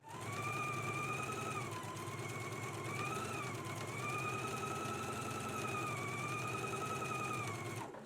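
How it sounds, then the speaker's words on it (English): A sewing machine runs a long continuous seam at a 5/8 inch allowance while a dress is sewn. Its motor whirs steadily at close range, its pitch rising and dipping slightly as the speed changes, with no talking. "we can go ahead and stitch using a 5/8 of an inch seam allowance"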